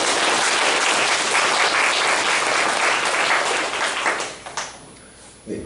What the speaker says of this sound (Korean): 모두를 위해서 큰 박수를 부탁드리겠습니다